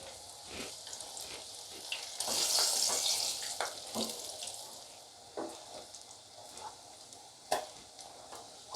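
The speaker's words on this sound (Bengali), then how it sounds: "এইভাবে সবগুলো ভেজে নেব" Mixed vegetable pakora deep-frying in hot oil, a steady close sizzle with bubbling bursts and occasional sharper crackles and pops, no talking.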